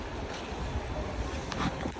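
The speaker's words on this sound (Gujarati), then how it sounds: "વાવાઝોડું ચાલુ થઈ ગયું છે" Windstorm with rain outdoors, a dense, constant roar of wind buffeting the microphone with a broad rushing wash and no distinct drops, loud and close, no talk.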